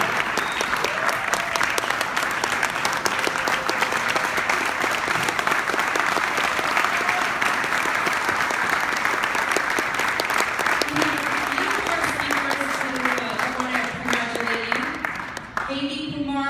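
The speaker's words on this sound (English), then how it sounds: "Let's stand up and give him a round of applause." Standing ovation for an award recipient at a children's charity gala, long continuous crowd applause with a few voices and cheers rising through it, loud and steady until tapering slightly near the end.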